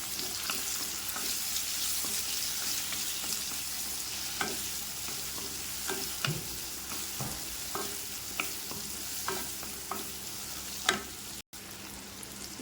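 A spoon stirs cut raw mango with chili powder and salt in a hot pan for mango pachadi. A steady sizzle runs under it, with repeated scraping and clinking strokes close by, and no voices.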